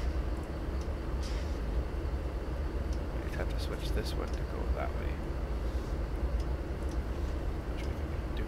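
A train in a railroad simulator game rumbles along with a steady low drone and some faint metallic clicks, while someone talks over it throughout.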